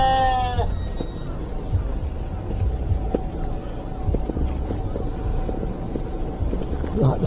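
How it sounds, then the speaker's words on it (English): Lambs and sheep bleat at a Norfolk livestock market. One loud, close bleat opens the scene, and scattered thuds, shuffling and barn noise follow amid the pens. "a mixture of lambs and sheep in here."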